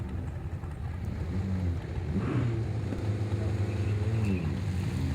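A turbocharged Hyundai Elantra launches off the pedal at 4,000 RPM, a loud, steady engine drone with low harmonics that shift in pitch as it bogs, heard from inside the car with some wind noise.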